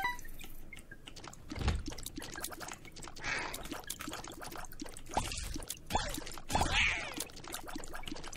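Creek water gurgles and splashes in The Binding of Isaac video game. The liquid sound runs continuously and fairly quietly, with occasional louder splashy bursts and drips.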